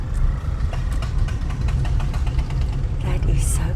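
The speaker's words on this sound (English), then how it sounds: "It's a tractor." A tractor engine idles steadily in a farming-community setting, a low continuous rumble that is close and fairly loud throughout, while people talk over it.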